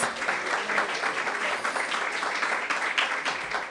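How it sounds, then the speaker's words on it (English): Audience applause for a guest and her daughter at a Washington, D.C. mayoral event, a steady, dense wash of many hands clapping that fills the room for a few seconds without break. "Give her daughter a big round of applause."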